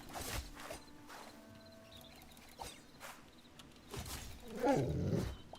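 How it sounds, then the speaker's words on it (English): A wolf attacks in the video game Hytale with a few growling snarls. The fiercest, loudest snarl comes near the end, over quiet ambient game sounds. "Oh, they're getting chased by a wolf."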